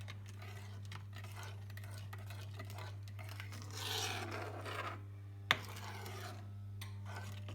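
Utensil stirring Thai sweet chili sauce in a pan as it thickens, a soft scraping swirl over a steady low hum, then one sharp knock against the pan; no talking.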